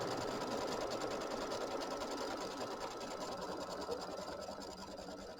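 An embroidery machine stitches the quilting on a mini quilt held in a 9.5 by 14 inch hoop, running at a steady, dense mechanical rattle close by from start to finish, with no talking.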